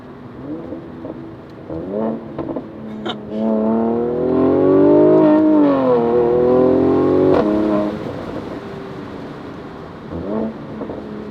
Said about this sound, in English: let's put it back in sport mode, open the exhaust